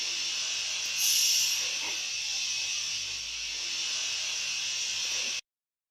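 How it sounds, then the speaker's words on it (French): Hair dryer blowing on a coat of acrylic paint, a steady airy whir with a bright constant hiss, close and continuous, briefly louder near the start and cutting off abruptly before the end. "je vais l'accélérer au sèche-cheveux"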